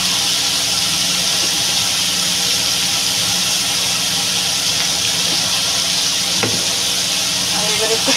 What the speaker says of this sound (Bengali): আর এবার একটু ভেজে নেবো।